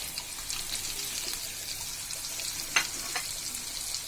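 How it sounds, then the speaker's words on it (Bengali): Onion and spices frying in a pan with goat tongue, a continuous soft sizzle with a sharp utensil knock partway through, close and fairly quiet with no talking. "পেঁয়াজটা কষানো হয়ে গেছে"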